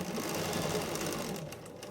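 A sewing machine runs a steady, fast stitch down a quilt border with the presser foot as guide, humming evenly and close with no talk.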